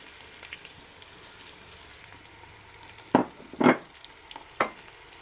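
Onions frying in a pot while being stirred. A quiet, steady sizzle runs under three sharp bursts of scraping and clatter from the stirring, with no talking.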